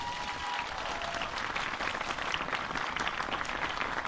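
Studio audience applause at a Pakistani television show, a dense, steady wash of many hands clapping that holds at an even level for the whole stretch with no voices over it.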